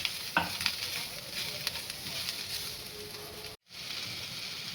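Tomatoes and onions sautéing in a pan for paneer masala, a steady sizzle with scraping stirs and a brief clatter early on, close and moderately loud, cutting out briefly near the end.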